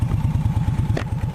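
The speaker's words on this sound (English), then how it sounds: "This bike's fucking quick, right? She is not slow. She is torquey." A 2017 Indian Scout motorcycle engine thrums in a fast rhythmic pulse while riding, loud and close, with a brief clack near the end and no talking.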